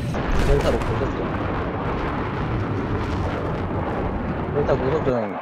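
A sustained, booming explosion rumbles through a Battlefield 4 match on the Paracel Storm map, loud and continuous with a rough roar that swells and lingers for several seconds.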